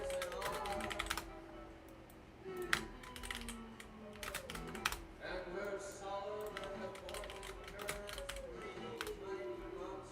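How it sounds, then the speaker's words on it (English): Fast, impatient typing on a computer keyboard, a dense patter of clicking keystrokes in quick bursts, heard under a steady voice talking throughout. "I'm like typing slightly too fast because I get impatient and I just keep misspelling stuff."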